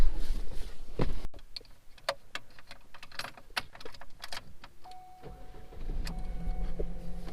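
Window crank on an old OBS Ford truck wound by hand, a run of close, uneven clicks and ratcheting mechanical knocks inside the cab, with a steadier whirring rattle toward the end.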